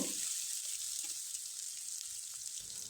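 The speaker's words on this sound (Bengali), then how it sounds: "পেঁয়াজ কুচি, রসুন কুচি এবং মরিচ কুচি, আদার কুচি দিয়ে খুব ভালোভাবে একটু নেড়েচেড়ে নিব" Chopped onion, garlic, chili and ginger frying in hot oil for a quick leftover-roti snack give a steady close sizzle and hiss, with a few faint stirring scrapes and no talking.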